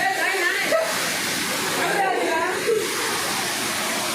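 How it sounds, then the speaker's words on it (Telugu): A waterfall on a hill trek near Yellandu gives off a constant rushing hiss, while people talk briefly over the falling water. "ఇది సెకండ్ వాటర్ ఫాల్స్"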